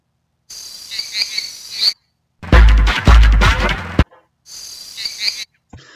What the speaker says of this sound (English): I did a jungle sound. I think it was tree frogs